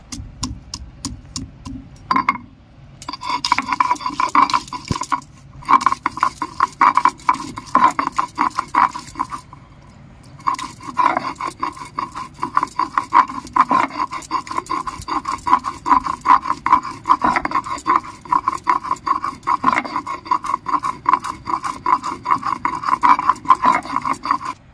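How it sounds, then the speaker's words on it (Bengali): Garlic and ginger are ground into paste on a grinding stone for a Barishal-style tel koi fish curry. Steady, close rhythmic rasping strokes continue throughout, with brief pauses near the start and middle. "রসুন আদাটা আমি বেটে নিচ্ছি"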